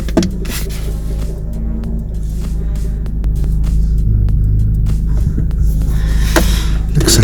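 An Audi TT engine idling low at around 760 RPM, a steady close rumble with a constant low hum, growing slightly louder partway through, with no talking.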